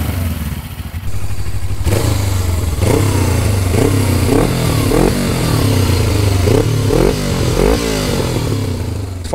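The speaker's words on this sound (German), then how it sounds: "Auch wenn man das Gas wegnimmt, dann ballert die noch schön ein bisschen hinten raus." Suzuki GS500E motorcycle with a Taconi exhaust revs up close, a deep bassy twin-cylinder roar rising and falling in repeated throttle blips, with popping and crackling on the overrun between revs.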